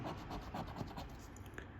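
A Para Yağmuru scratch-off lottery card worth up to 2,000 million TL is scraped with steady, rapid rubbing strokes, close and continuous for the whole stretch, with no voice heard over it.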